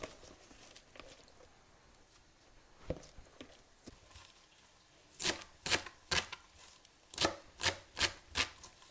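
An onion being cut with a knife on a board, a few scattered knocks early on, then a quick run of sharp, close, regular chops; no talking.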